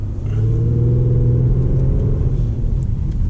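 A 2019 Ford Taurus SHO in sport mode pulling away under acceleration, heard from inside as a loud, steady low engine rumble and drone that holds throughout, with no talking.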